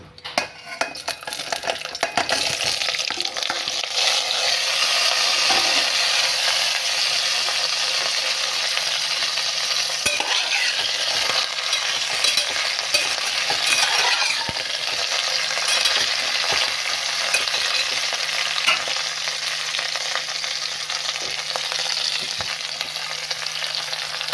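Whole spices temper in hot oil for jhinge posto, a ridge gourd and poppy seed dish, with a loud, continuous sizzle up close, punctuated by clinks of a utensil stirring against the pan.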